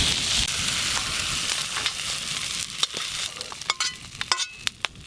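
Prawns frying in hot oil in a village kitchen give off a steady, close sizzle, with sharp clicks and taps of a utensil coming more often toward the end.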